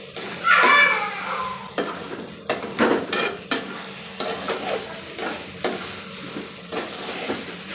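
Poha being fried and stirred in a kadai, a soft continuous sizzle broken by repeated scraping strokes of a spoon against the pan, close and fairly loud, with no voices.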